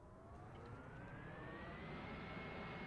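A helicopter flying in the Roblox game Vehicle Simulator, giving a steady, dense engine roar with a slowly rising whine that holds at an even level throughout, with no talking.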